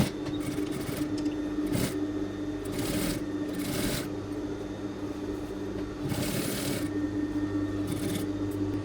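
Bursts of a sewing machine stitching a side seam on children's trousers, starting and stopping in short runs against a steady background hum.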